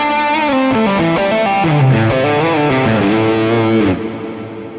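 Electric guitar rhythm tone through a Fractal FM3 modeler: loud, distorted strummed chords ringing in sequence, sustained and dense, with the last chord cut short into a quieter decay.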